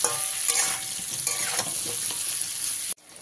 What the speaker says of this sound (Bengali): এবারে পটলগুলো দিয়ে আবারও আমি খুব ভালো করে ভেজে নেবো।